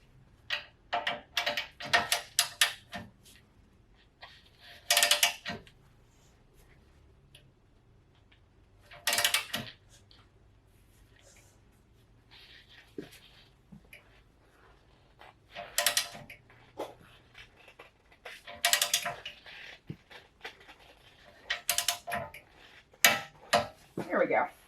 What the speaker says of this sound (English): Now let's torque the upper ball joint to knuckle.